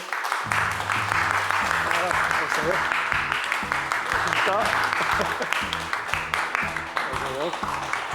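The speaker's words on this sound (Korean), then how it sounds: "여러분 큰 박수로 환영해 주십시오." A studio audience at a KBS Gwangju New Year special claps to welcome the Gwangju mayor as he arrives: steady applause runs under music and voices throughout.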